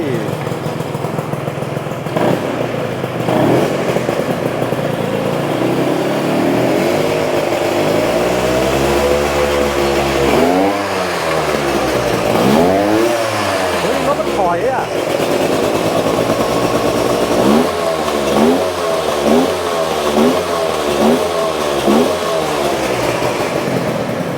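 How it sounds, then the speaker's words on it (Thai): Car engine at a garage starting up, then revving repeatedly, with rising and falling surges that end in a quick series of short blips, loud and close under ongoing talk. "ลองสตาร์ทดูได้ไหม ครับ ดูว่าทีเดียวจะติดป่ะ"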